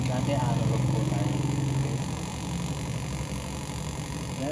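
Nissan Serena engine running steadily at about 1000 RPM, with a faulty ignition control module. A continuous even hum is heard close up, with a voice talking over it.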